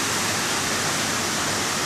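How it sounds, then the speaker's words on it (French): A waterfall at a slippery, dangerous spot, a continuous dense broadband roar of falling water, loud and steady throughout with no voices. "on essaie de voir cette cascade, mais c'est vraiment glissant et dangereux"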